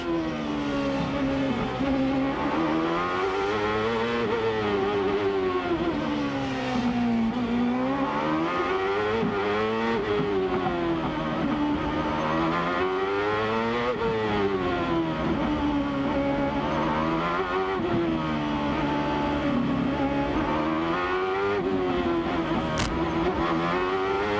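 Two CART race cars, a Reynard Honda and a Swift Ford, snarl around the 1999 Long Beach street circuit. Their high-revving engines rise and drop again and again through gear shifts in a steady, close, continuous roar.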